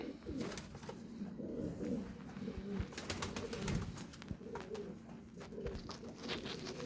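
Kasuri pigeons coo in low, throaty bursts, repeating steadily through the clip against a busy background of other bird noise.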